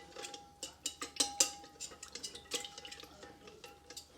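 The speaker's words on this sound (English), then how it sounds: "Now we're gonna whisk until, what does it say? Whisk until smooth." A whisk clinks and scrapes steadily through pancake batter mixed with vegetable oil in a bowl, making quiet, rapid ticking strokes close by, with no talking.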